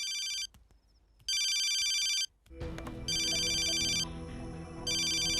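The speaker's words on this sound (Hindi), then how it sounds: "किसका फोन है प्रिया?" A telephone rings in repeated electronic bursts with short gaps between them, loud and close, while a low rumbling background comes in partway through.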